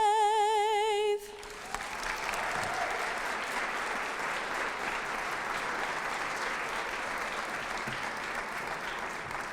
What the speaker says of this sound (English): Let's give another round of applause to Maddie.